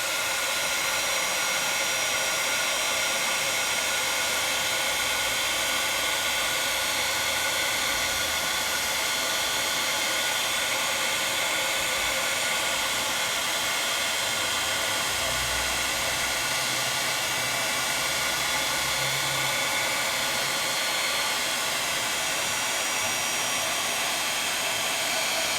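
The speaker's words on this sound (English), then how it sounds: "Let's go ahead and heat set." Heat tool blowing steadily while setting embossing powder: a loud, continuous, hair-dryer-like whoosh of fan noise holding unbroken for the whole stretch, close by with no speech.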